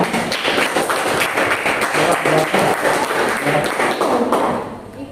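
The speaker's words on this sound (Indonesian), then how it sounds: "kasih aplaus untuk jawaban dari kelompok 2" A classroom of Indonesian junior high students breaks into steady, loud applause for group 2's answer, many hands clapping together before it fades out at the end.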